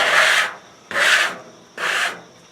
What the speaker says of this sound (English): Keep scraping it down towards this end.